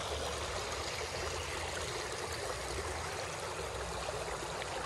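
A river whose water is full of trash and smells foul flows with a continuous, even rushing and trickling wash, moderately quiet and unbroken, with no voices.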